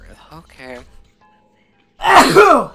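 After a brief spoken word and a moment of quiet, someone lets out a single loud, close sneeze, a sharp breathy burst at the end.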